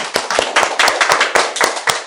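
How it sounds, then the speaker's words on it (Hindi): A classroom audience claps in sparse, uneven bursts, roughly a dozen sharp distinct hand claps over two seconds, close and loud, with no voices. "and please let's clap"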